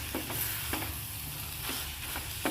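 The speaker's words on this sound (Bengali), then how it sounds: "দেখুন, চিংড়ি মাছ আর আলুটা দিয়ে খুব ভালোভাবে কষিয়ে নিয়েছি" Prawns and potatoes stir-fried in spiced oil, a steady close sizzle with a few sharp scraping strokes of a spatula against the pan, no voices.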